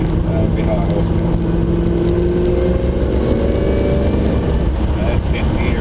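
A Holden Senator's built engine with steel rings and a moderate roller camshaft pulls hard near 100 km/h, a loud, dense low drone with rising tone under steady road roar.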